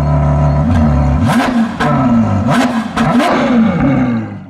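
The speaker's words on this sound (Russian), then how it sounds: "Очень громко, но этот выхлоп с клапанами, сейчас он звучит уже чуть тише" A Ferrari 812 with a Novitec N-Largo valved exhaust revs hard up close, its V12 snarling through several rising and falling throttle blips that bark loudly and then drop back.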